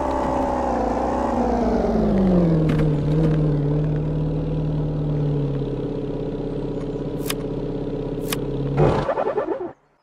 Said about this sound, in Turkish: Aha araba yıkıyor.